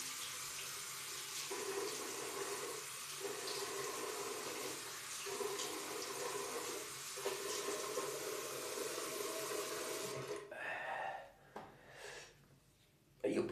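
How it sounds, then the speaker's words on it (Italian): Tap water runs steadily into a sink while a face is being washed before shaving, a continuous rushing flow with a few splashing breaks, then cutting off near the end. "Mi bagno il viso,"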